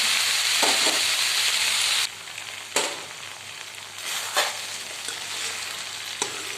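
Onions for masala bhindi sizzle steadily in a pan, with a loud, continuous hiss at first that drops lower, punctuated by a few sharp stirring clanks; no talking.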